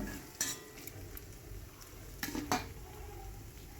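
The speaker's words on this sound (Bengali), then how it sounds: "তো ভালো করে লাল করে আমি ভেজে নিচ্ছি" Oil and greens fry in a pan, a faint sizzle under several sharp clinks and scrapes of a utensil stirring against the metal pan.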